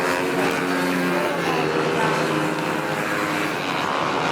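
A pack of 58 racing motorcycles roars steadily at the start of a 3.5-hour endurance race on track, a dense continuous engine drone with no breaks, loud and sustained.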